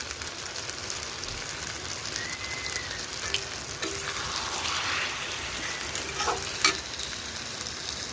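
Lote fish curry with eggplant bubbling in a pan, a steady close sizzling hiss with faint spatters and small pops throughout, no voices.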